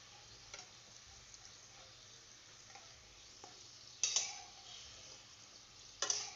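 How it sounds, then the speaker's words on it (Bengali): Langcha sweets frying on a low flame in oil make a quiet, continuous soft sizzle, with a few sharper clinks of a utensil near the end. "একদম সিমে রেখে ভাজতে হবে।"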